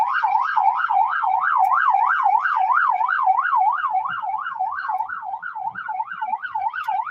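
Police car siren wailing in a residential neighborhood, a fast rising-and-falling yelp cycling steadily and loudly for several seconds, close by with faint background noise and no talk.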